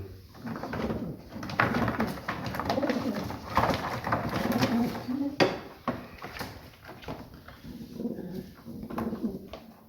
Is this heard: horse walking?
no